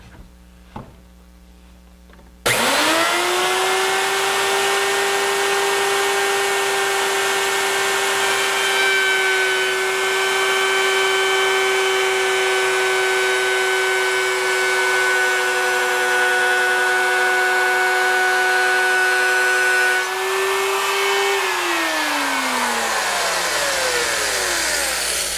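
A power tool whines steadily for about twenty seconds while routing a mitered strip along the top plate edge of a wooden bookcase, then spins down. It starts after a short quiet lead-in and is loud and close.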